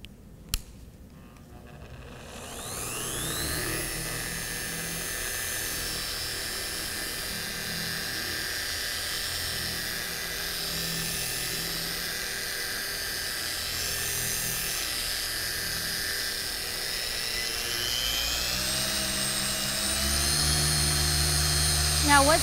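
Machine polisher with a white pad working the silver paint of a Ferrari 575M Maranello spins up after a short pause into a steady, high, drill-like whine, then rises in speed near the end, with faint voices at times.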